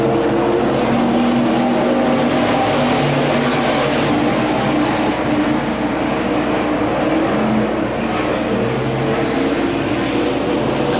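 Sportmod race cars roar around the dirt oval at Crawford County Speedway, a dense, continuous engine drone from several cars at once, loud and steady throughout with no voices over it.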